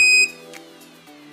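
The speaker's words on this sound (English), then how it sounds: "You'd be able to hear the beep, the LED glowing," An Arduino buzzer sounds one loud, sharp electronic beep when an ultrasonic sensor detects a hand, cutting off quickly and leaving a faint tonal hum.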